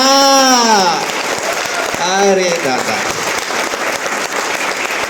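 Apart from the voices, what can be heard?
audience clapping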